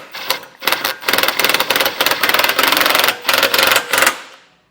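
A 13 mm socket snugs down the bolts of an EcoHitch hidden trailer hitch receiver on a 2017 Volkswagen, giving rapid ratchet clicking in bursts with brief pauses, close and loud, with no talking.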